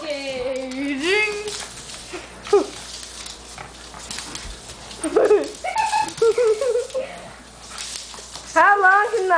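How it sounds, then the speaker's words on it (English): A dog whimpers and yelps while a skater tows it along, giving rising and falling whines in bursts that are loud and close. People talk and exclaim over it. "Man, that dog's tough."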